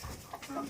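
Chickens clucking softly inside a nest box holding about ten eggs, with a few brief close calls in a short burst.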